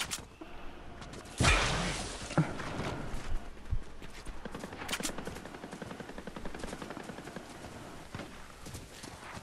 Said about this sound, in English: Alright, there's shots near me.